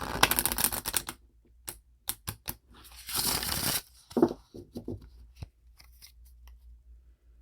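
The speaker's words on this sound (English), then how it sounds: "I'm going to deal out these cards" Tarot cards being dealt out all at once, with a burst of rapid papery shuffling and riffling followed by separate crisp card snaps and slaps onto a surface, close and intimate in a quiet room.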